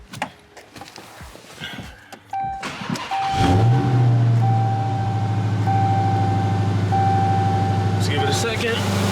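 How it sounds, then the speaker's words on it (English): A Chrysler 300 Redeye engine cranks and fires up after an oil change, then settles into a loud, steady rumbling idle with a faint whine above it. "give it a start, make sure no leaks"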